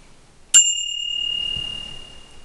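A single bright ring from a BBB bicycle bell on a handlebar, struck once and left to sustain as a clear medium-high tone that slowly fades.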